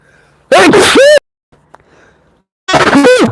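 A loud, sudden sneeze bursts close to the microphone, followed by a quiet pause with faint shuffling, then another sharp, forceful sneeze.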